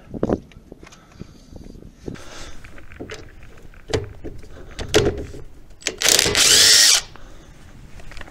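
Impact wrench or power drill working on stuck wheel nuts of a cheap tipping trailer for a Zetor tractor, a couple of short tool bursts, then one loud, sustained high-pitched whirring burst near the end, with scattered clanks in between.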